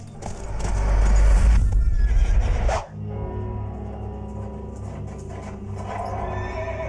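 A horse arrives in a Western film scene: a loud whinny and clip-clop of hooves swell up front, then cut off abruptly, leaving quieter lingering hoofbeats and ambience.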